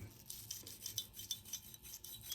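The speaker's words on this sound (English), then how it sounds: "you can take your brush and you just scrub" A cleaning brush scrubs carbon and gunpowder residue off a Glock-style handgun, making quick, rhythmic rasping strokes that are soft and close, with no speech.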